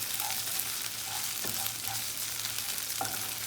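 Ginger and green chilies fry in hot oil in a pan for a dal tadka, giving a dense, steady, close sizzle with a few faint pops and a light knock or two, with no talk.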